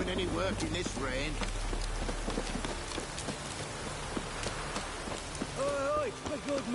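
Rain falling steadily in The Witcher 3: Wild Hunt, a continuous hiss and patter with a low rumble early on, heard under voices and what may be hoofbeats.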